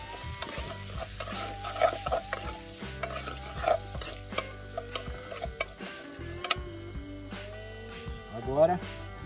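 Bacon fries in a little oil in a pan while being stirred, with a continuous close sizzle broken by scraping stirs and clinks, and someone talks over the cooking.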